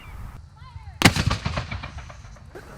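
A historic cannon at Fort Scott fires during a fort demonstration: one sharp, loud blast strikes suddenly and then rolls and rumbles for more than a second before fading, with outdoor ambience before and after.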